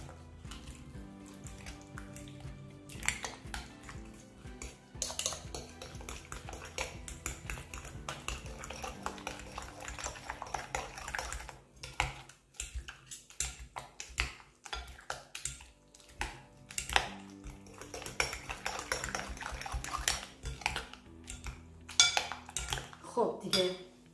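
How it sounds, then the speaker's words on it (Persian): Cutlery clinks and scrapes against a bowl as paprika and salt are mixed for a Persian walnut and eggplant kuku, with steady irregular clatter of metal on dishware throughout, close and fairly loud, with no talk. "یک سوم قاشق غذاخوری پاپریکا و به همون اندازه نمک و اینا رو خوب مخلوطش میکنم"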